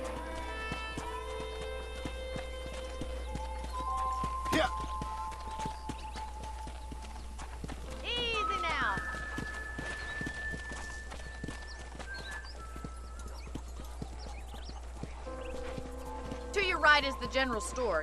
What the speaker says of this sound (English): More horse riding.